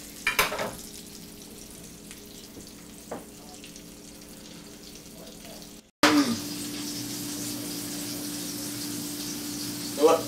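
Chicken frying in a pan makes a steady sizzle that grows louder and fuller halfway through, with brief clatters of tongs at the start and end, close up and without talk.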